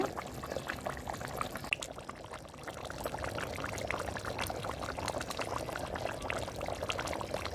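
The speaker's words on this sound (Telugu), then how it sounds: "ఉడుకుతుందండి పారం కోడి" Farm chicken curry boils in a pot on a charcoal stove, giving a faint, continuous close bubbling and simmering with no voices.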